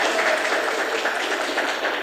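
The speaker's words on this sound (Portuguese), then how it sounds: "a gente desse uma salva de palmas para esses jogadores" Standing crowd gives a round of applause for a municipal football team's players, loud dense clapping that stays steady and continuous from start to finish.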